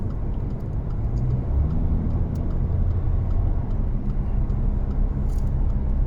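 A Jaguar car accelerates at full throttle on an empty road, its engine a steady, loud low rumble that holds throughout, heard from inside the vehicle with no talk.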